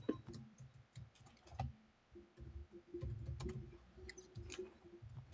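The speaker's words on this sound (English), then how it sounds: "I'm typing." Quiet clicking of keys being typed on a computer keyboard during a game, in irregular bursts with soft thumps and low room noise beneath.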